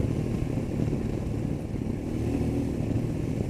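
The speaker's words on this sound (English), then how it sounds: "It does make quite a evocative noise" A Royal Enfield Himalayan motorcycle engine running steadily, a low, even thumping drone close by that holds a constant pitch throughout without revving.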